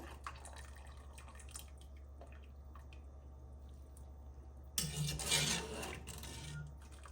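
Liquid is drained from cooked food for a Tuscan salmon dish, a soft drip and trickle at first, then a louder gush of pouring water that splashes for about two seconds and trails off, close by and without talk.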